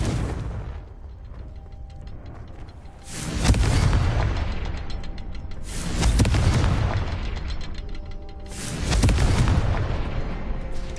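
Repeated Confringo blasting curse explosions from the Hogwarts Legacy video game burst about three times in steady succession, each a loud, broad whooshing boom that swells and lingers before the next, with mechanical clanking faintly in between.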